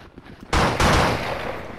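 An AK assault rifle in the pig-slaughter shooter Blood and Bacon opens up suddenly with a loud, close burst of rapid automatic fire that rolls on continuously after a quiet lead-in.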